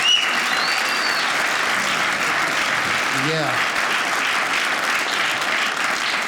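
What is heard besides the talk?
audience applause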